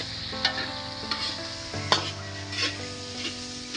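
Squash sautéed with shrimp in a pan, a close sizzle broken by a few sharp stirring clacks of a utensil against the pan, with no voices.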